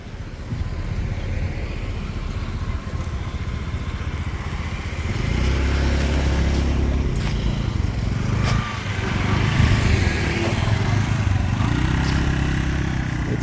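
Motor scooters ride past on a beachfront road in Thailand, a steady buzz of small engines with louder passes swelling in the second half, near and continuous, with no talk.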